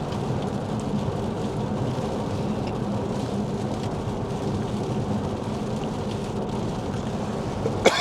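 Heavy rain pours steadily on a car during a drive, a dense continuous hiss with low road rumble underneath and no talking.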